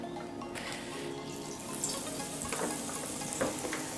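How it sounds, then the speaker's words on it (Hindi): Bread slices coated in besan batter dropped into hot oil for bread pakora, a steady bright sizzle and crackle with occasional louder pops and splashes throughout. "अब ब्रेड को हम निकाल कर ऑयल में डाल देंगे।"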